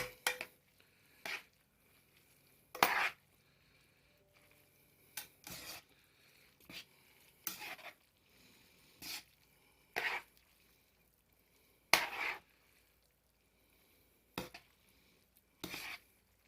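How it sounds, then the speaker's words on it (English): Pasta being stirred with metal tongs in a pan of rendered bacon fat for carbonara, giving sparse, separate clinks and scrapes every second or two against a quiet background. "The tongs work just as well, and it lets me kind of stir them as I'm going along"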